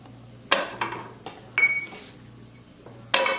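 A metal pan is set back onto a gas stove burner while making chicken Dijon. A few sharp metallic clanks and scrapes ring out close by, spaced over a few seconds, with no talking.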